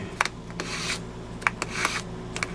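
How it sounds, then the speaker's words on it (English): Dry rasping strokes of 320-grit sandpaper on a flat surface sanding down wax in short one-way bursts, several passes in a row, close by and fairly quiet with no talking. "You just keep sanding this down."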